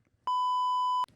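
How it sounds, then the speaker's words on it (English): A single sustained censor bleep, a steady electronic tone lasting most of a second, cuts in sharply and stops abruptly over a muted word, with faint room sound on either side. "he did not say what you think he said under that beep"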